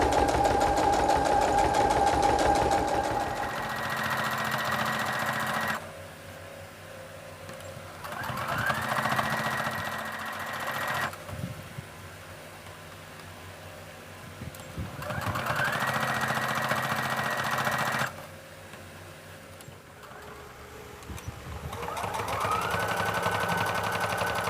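A sewing machine stitches a wrap skirt in three sustained runs, each a loud, fast mechanical chatter separated by quieter pauses as the fabric is handled.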